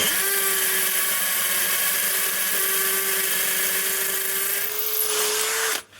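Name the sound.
Bosch GSB 18V-21 hammer drill drilling a hole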